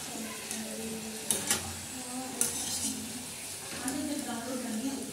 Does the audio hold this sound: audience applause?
no